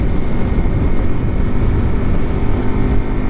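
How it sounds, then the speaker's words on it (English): A 125cc, 9-horsepower Honda Super Cub C125 motorcycle cruising at around 45 to 50 mph, a steady loud drone of engine and wind rumble with no break, heard alone without talk. "And we are on a 125cc 9 horsepower motorcycle."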